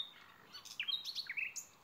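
A nightingale sings in a fairy tale reading, giving a string of short, bright chirping phrases that rise and fall. The phrases are fairly faint and heard alone, with no talking.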